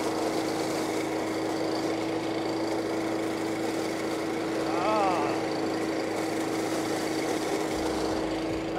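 A leaf collection machine with wheels set up high drones steadily outdoors as it pulls in big leaves, a continuous engine hum with a brief rising whine near the middle.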